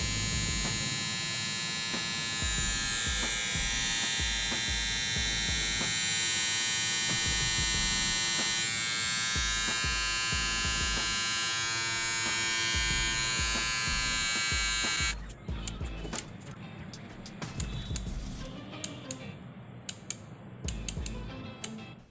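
A Philips BT3221/15 corded and cordless beard trimmer with titanium-coated stainless steel blades runs with a steady, close, buzzing hum for about fifteen seconds, then switches off, followed by quieter handling clicks and rustles.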